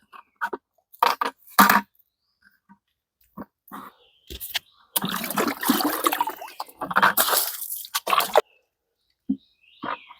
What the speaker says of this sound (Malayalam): ആദ്യം വെള്ളം കോരി വറ്റിക്കട്ടെ.